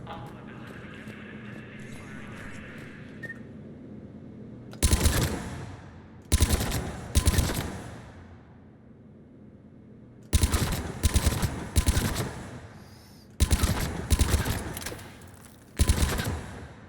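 Weapons fire in the weapons testing area of Mass Effect 3: Legendary Edition comes in loud, sharp bursts of rapid automatic shots separated by short pauses, over a low in-game hum.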